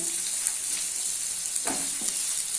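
Onions frying in oil over a high flame for mutton korma, giving a steady close hiss with a couple of soft scraping stirs near the end, no voices.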